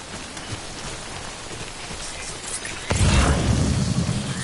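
Timefall rain in Death Stranding pouring steadily as dense hiss, swelling abruptly louder and heavier about three seconds in and continuing at that fuller level.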